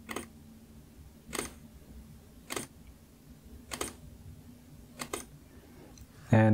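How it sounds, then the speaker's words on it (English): An Olympus E-M5 Mark III mirrorless camera fires a bracketed shutter sequence: five crisp, close clicks spaced roughly a second apart over a quiet room hum, ending with a louder handling clunk. "I'll click the shutter button."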